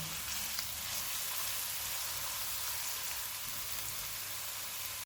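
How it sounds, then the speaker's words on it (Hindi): Ginger-garlic paste frying in a pan while cooking fish pulao, a steady, even sizzle with crackling texture held at a constant level throughout, with no voices. "One and half table spoon अदरक और लहसुन का पेस्ट डालेंगे। इनको 1 मिनट तक भूनेंगे।"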